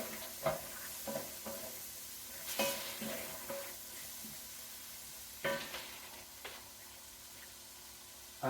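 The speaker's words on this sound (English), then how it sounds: "Right, carrots, onion, celery, sweat it nicely now with all the spices" Carrots, onion, celery and red peppers sweat with spices in a pan, giving a faint, soft sizzle with several sharp stirring scrapes and knocks at irregular moments.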